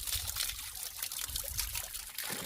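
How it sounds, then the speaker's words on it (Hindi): Water trickling steadily from a village spring spout in the hills, fed from a source behind banana trees: a continuous close splashing dribble with no talk. "ये हमारे गांव का धारा है"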